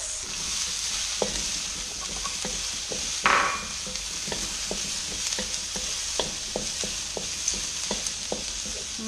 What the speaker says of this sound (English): I'm going to pop in my mushrooms.